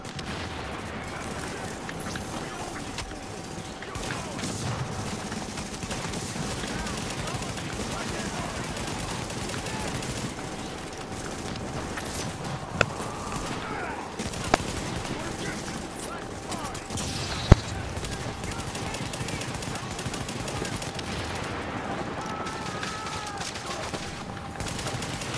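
Gunfire in The Division video game, with sniper fire among it: a continuous battle bed of shots and mechanical game sounds, with a few sharp isolated cracks standing out near the middle and a voice talking over the action.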